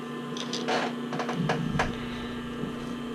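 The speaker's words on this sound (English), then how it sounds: "So my machine does a zigzag here, so I'm going to get this going." Sewing machine running a zigzag stitch on an elastic band for a bra, with short bursts of needle stitching over a steady motor hum, close and moderately loud, with no voices.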